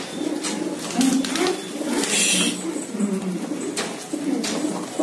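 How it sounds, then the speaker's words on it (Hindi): Tumbler pigeons of a border flying breed coo in a low, steady murmur that runs throughout, with bursts of wing flutter and cage bustle layered in. "सब गिरे बाज कबूतर है।"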